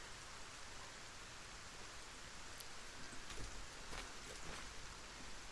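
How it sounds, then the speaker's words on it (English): Steady rain falling in a survival building game, a dense even hiss with scattered faint drop patters, continuous and alone with no voices. "since it's raining!"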